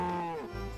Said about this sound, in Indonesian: Ini ternyata sapi.